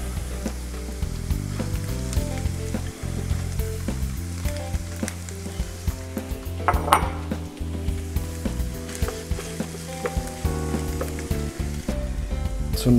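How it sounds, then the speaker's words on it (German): Minced meat sizzles loudly with onions in a pan for an Italian-style pasta bake. The frying hiss stays continuous and close, broken by occasional stirring scrapes, with no talk. "Jetzt geben wir unser Gehacktes dazu und braten das gleich mit."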